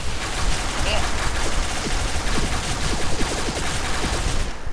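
Rapid bursts of gunfire from the video game Point Blank crackle steadily in a thick fusillade, loud and continuous, with a player's voice faintly underneath.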